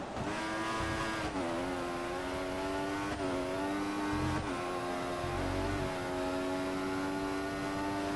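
Simulated Formula One race car from F1 2014 screaming at a steady high pitch, with small dips as it shifts and brakes into a corner, plus faint tyre noise underneath, continuous and close throughout.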